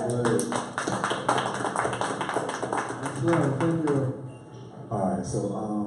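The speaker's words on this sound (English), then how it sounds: "can we get one more round of applause for your brother?" Studio audience on a talk show clapping in a steady patter of sharp claps, with people talking and calling out over the applause throughout.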